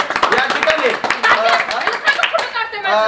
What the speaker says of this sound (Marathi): जोरदार टाळ्या शिवानीसाठी. टाळ्या थांबल्या नाही पाहिजे.